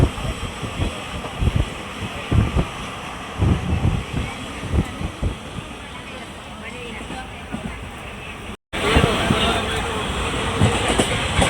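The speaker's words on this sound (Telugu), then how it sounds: "ఇలా ట్రైన్ బ్రిడ్జ్ పై నుంచి వెళ్తూ ఉంటే కింద వాటర్ ఉంటే భలే అనిపిస్తుంది నాకైతే" A train rolls across a bridge over water with a loud, continuous rumble and rhythmic clatter of wheels, wind buffeting the microphone, and a brief dropout before the rumble resumes.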